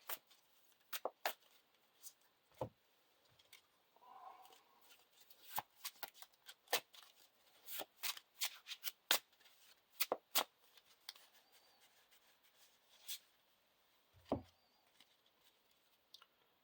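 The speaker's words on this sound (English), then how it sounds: "Shuffle the Searching Eye into my deck" Cards being shuffled with crisp, irregular riffles and snaps, some louder than others, in a quiet room.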